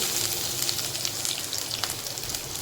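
Chilies, curry leaves, asafoetida and ginger sautéing in hot oil, a dense steady crackling sizzle that holds evenly for a few seconds, close up and without talk.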